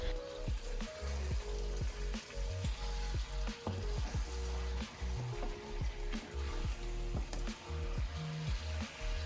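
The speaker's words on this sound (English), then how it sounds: "add a 1/4 cup of tomato paste and half a cup of blended tomatoes" Tomato paste and blended tomatoes cooking in a pan for chicken Bukhari rice make a soft, bubbling sizzle with irregular pops and stirring knocks, close and fairly quiet, without talking.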